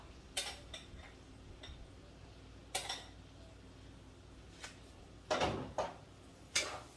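Spoon clinks and scrapes against a hot bowl while curried veggie chunks are mixed, a few sharp metallic taps spaced irregularly amid quiet room tone, close and fairly soft.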